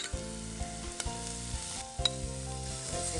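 Green peas tipped into onions already frying in a pan, producing a continuous close sizzle broken by regular light clinks and scrapes of stirring; moderately quiet, no voices.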